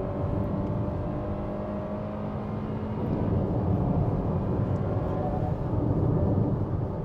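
A Hyundai Creta's turbocharged petrol engine revs and accelerates at full throttle, its drone rising and growing louder over several seconds, with no voices.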